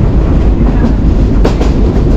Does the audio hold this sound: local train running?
yes